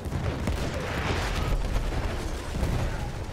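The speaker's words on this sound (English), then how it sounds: "Man, those mortars are getting closer." Mortar rounds in the World War I shooter Battlefield 1 burst in a rolling series of muffled booms and crackling gunfire, dense and mid-distance, with no talk over them.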